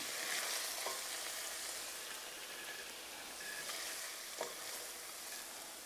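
Chive stir-fry being scooped out of a hot pan, with a constant soft sizzle and a few faint scrapes of a utensil against the metal.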